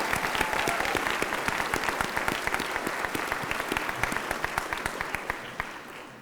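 Sustained applause from a graduation ceremony audience at the University of Newcastle, Australia, steady dense clapping throughout that fades slightly toward the end, with no voices over it.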